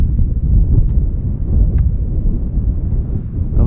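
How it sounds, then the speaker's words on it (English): Steady, loud wind buffets the microphone near the Grand Teton during a mountaineering climb, a continuous low roar with no pauses and no voices. "It's a windy you can't really see,"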